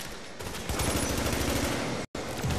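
Sustained, dense automatic gunfire from turrets in The Division's Dark Zone, loud and continuous rapid bursts that break off for a brief instant near the end before resuming.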